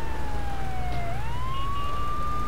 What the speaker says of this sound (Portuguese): tem que deixar a sirene ligada o tempo todo, senão os caras não saem